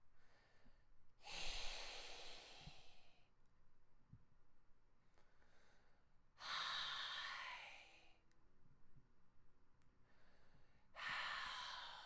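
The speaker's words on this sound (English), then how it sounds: "We're going to go to our non-voiced atonal vowel sounds, breathing it out." Three long, forceful exhalations of breathy, unvoiced vowel sounds come from a nearby person, each a few seconds long and separated by quiet pauses, done as a voice-training exercise.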